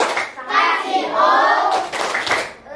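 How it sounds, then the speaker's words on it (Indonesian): A class of elementary school children performs a rhythmic "wow" clap, bursts of many hands clapping in time with children's chanting voices, loud and close, in short grouped phrases. "Kita kasih tepuk wow."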